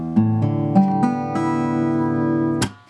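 An acoustic-style guitar in standard tuning rings out with a series of strummed and picked notes and chords, close and clear, sustaining before a final strum cuts off into a quick fade; no talking.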